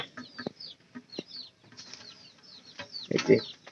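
Village chickens flap down from a perch, with several short bursts of wing beats and a few clucks, close by, ending in a louder flurry of flapping.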